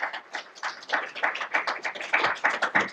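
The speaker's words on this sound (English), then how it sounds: "so give yourself a round of applause" Clapping from a small audience cheering student groups at an advertising competition, a steady run of close, overlapping hand claps that carry on evenly throughout.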